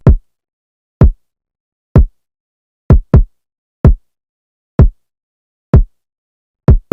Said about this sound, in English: We have the kick, which is the identical kick,